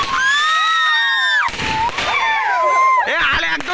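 Firecrackers burst outdoors, with whistling, sliding tones, a sharp bang midway and a cluster of cracks near the end, while voices mingle in the background.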